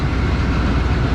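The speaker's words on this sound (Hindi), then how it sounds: "ZC26412 made in China 2000 horse power का लोकोमोटिव लीड करेगा 36 डाउन को" A Chinese-made 2000 horsepower diesel locomotive, ZC26412, at the head of the Sir Syed Express, producing a loud, steady engine rumble with dense low-frequency noise and no break throughout.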